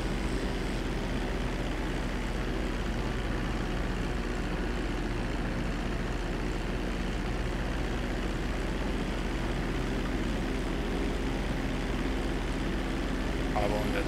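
A fixed-wing airplane in the video game GTA 5 drones with a steady, loud, continuous engine roar that stays even for the whole stretch, with no clear breaks.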